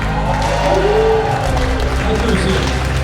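A large gala audience at a charity evening breaks into sustained applause, dense clapping and crowd noise that holds at an even, loud level throughout, with a voice faintly audible beneath it.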